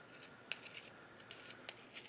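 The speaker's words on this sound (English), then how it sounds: "So I'm sharpening my pencil because it's getting a bit dull." A dull pencil is sharpened by hand at a drawing desk, with soft scraping strokes and two sharper snips or clicks standing out, quiet and close, with no talking.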